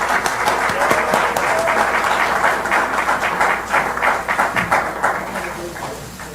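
An audience at an invited debate forum gives loud, sustained applause to welcome Seongnam mayor Lee Jae-myung to the podium, dense clapping that gradually thins toward the end.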